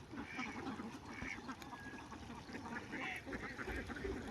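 Ducks quack at a duck farm in Chalan Beel, a faint, scattered chorus of honking calls over soft low rumbling background noise.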